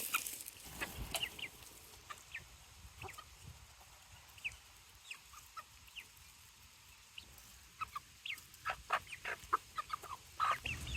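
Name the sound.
chickens clucking while eating homemade scratch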